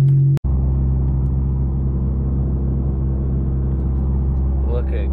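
A 10th-generation Honda Civic Si cruising on an Alabama interstate, heard from inside as a steady low engine and road drone after a brief click at the start, with faint noise near the end.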